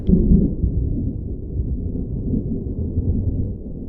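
Deep, continuous rumbling of thunder from a big storm setting in, sustained low and heavy throughout with no talk.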